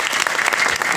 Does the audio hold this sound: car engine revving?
no